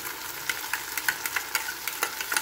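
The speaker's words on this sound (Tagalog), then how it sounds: "Lagay natin ng butter dyan. At pwede na natin ilagay ang ating sibuyas and" Onions frying in butter in a pan, a steady close sizzle with repeated sharp crackles and stirring clicks, no voices.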